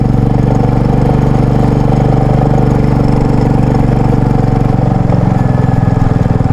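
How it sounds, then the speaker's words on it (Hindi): Motorbike engine running on a mountain road in Spiti, a loud, close, steady throbbing drone with a fast regular pulse and no voices. "चलिए अब देखते हैं कि बाइक कहाँ तक जाती है।"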